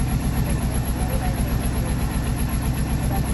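A car engine runs at a steady idle-like drone with a constant low rumble, heard from inside the vehicle with a family seated as passengers, close and continuous throughout.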